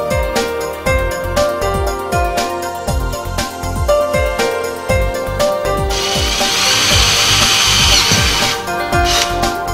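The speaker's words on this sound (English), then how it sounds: "Then make the thread in the holes." Threads are cut into holes in a gas manifold with a power tool, making a loud, steady run of rapid rhythmic clicks and grinding. A brighter, hissing whir comes in toward the end.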